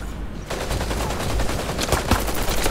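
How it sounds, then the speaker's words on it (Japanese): Rapid automatic gunfire in the futuristic mecha battle-royale video game Super Mecha Champions fills the moment, a loud, dense burst of repeated shots that starts abruptly and continues with scattered sharper cracks. "完璧な銃声が聞こえた。"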